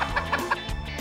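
A chicken clucks several times in quick, uneven bursts, close and fairly loud.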